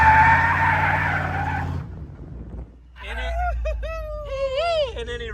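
Tires skid loudly as a 1988-98 2WD pickup with a 4-inch lift brakes hard, a broad harsh rush lasting nearly two seconds, then a short lull before a rising squeal and excited voices talking over it.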